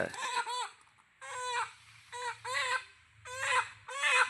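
Country chickens in a cage give repeated short clucking calls in bursts, close and fairly quiet, with a faint low hum beneath and brief pauses between calls.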